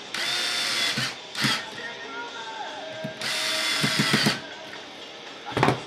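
Electric screwdriver tightening screws into the electronics box of an RC crawler, several short whirring bursts with pauses between, close and moderately loud.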